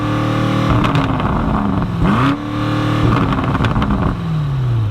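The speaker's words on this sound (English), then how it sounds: "I think the exhaust note in this car, we revved it, it sounds pretty good." A 2020 BMW M850i Gran Coupe's engine revs hard several times, its exhaust note rising and falling in loud, close sweeps with a deep rumble between blips, no talking over it.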